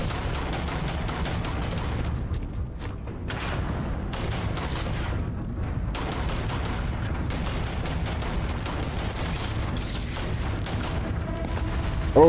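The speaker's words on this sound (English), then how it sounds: "I literally said watch the shots." Gunshots in the space game Starfield, rapid bursts and scattered shots popping continuously in a firefight, steady and moderately loud against a dense, rumbling combat background with no clear pauses.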